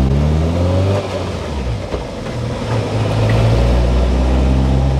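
Lotus Elise S1 with a Rover K-Series engine revving up loudly and close, the engine note rising and falling through several throttle blips with a steady low drone underneath.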